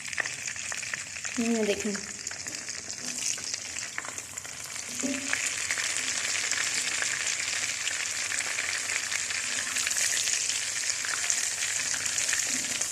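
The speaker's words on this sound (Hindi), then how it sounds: "ये लहसुन अदरक का पेस्ट है वो हम इसके अंदर शामिल कर देते हैं। मक्खन जो है ना गर्म हो रहा है।" Garlic-ginger paste sizzles in hot butter in a pan, a steady frying hiss running throughout with a few brief spoken words near the start.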